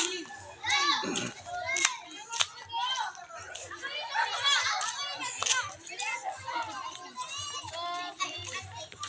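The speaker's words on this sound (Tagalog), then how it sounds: "May mga bata po sa daanan mga guys" Young children play by a roadside, shrieking, laughing and chattering in high voices, with occasional hand slaps, lively and close throughout.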